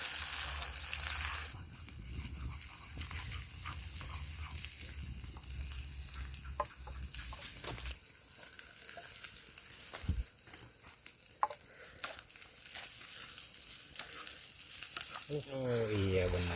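Food is stir-fried in a pan at an outdoor farm hut, giving a steady, faint sizzle broken by scraping, clatter and occasional louder bursts.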